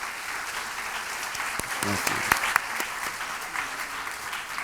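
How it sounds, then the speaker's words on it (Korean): Audience applause at a children's safety forum in the National Assembly welcomes the children's representatives, sustained clapping from a room full of people with a brief spoken thank-you over it. "우리 어린이들 대표 다시 한번 큰 박수로 환영 한번 해주시죠"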